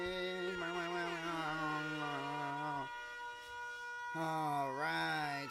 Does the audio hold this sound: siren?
yes